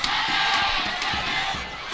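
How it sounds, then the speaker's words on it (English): An away football crowd roars and chants after a goal in a Bhutan Premier League match, a loud, dense, sustained cheer from many voices. "The away crowd cheering on the top of their lungs."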